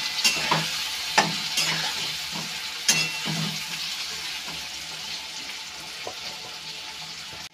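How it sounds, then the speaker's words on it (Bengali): Potato and onion frying together in a pan with salt and turmeric, a steady close sizzle broken by several scraping stirs and soft clanks of the spoon against the pan. "একটু করে নুন দিলাম, একটু হলুদ দিয়ে দিলাম, একসাথে ভেজে নেব। পেঁয়াজের সাথে আলুটা।"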